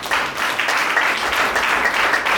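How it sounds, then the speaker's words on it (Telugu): A church congregation clapping together at a worship service, a dense, even burst of applause close by, lasting a couple of seconds. "అందరికీ చప్పట్లు కొడదాం"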